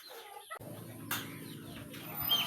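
Chickens cluck and ducks call close by amid rustling and scattered movement during feeding, with no talking.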